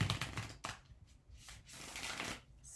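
A deck of tarot cards is riffled and shuffled by hand in several quick bursts of crisp flapping and papery slaps, close by, with short pauses between them and no talking.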